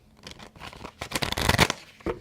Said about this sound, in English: that's how you shuffle that.